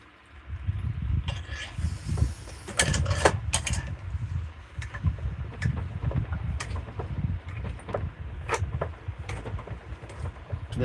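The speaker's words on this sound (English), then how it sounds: "This vise is obviously not as smooth as I I'd want it to be" A stiff bench vise in a woodworking shop, its screw cranked with a screwdriver standing in for the missing handle, gives close, uneven scraping and grinding with sharp clunks and clicks scattered over a steady low rumble, with no talking.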